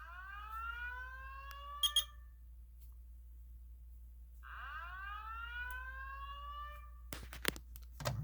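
Two long electronic alarm sweeps rise in pitch, separated by a quiet gap, with a couple of short beeps between them and a burst of clicks at the end.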